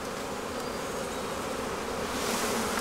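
Honeybees buzz in a dense, continuous drone around an open hive during an inspection, close and steady throughout with no talking.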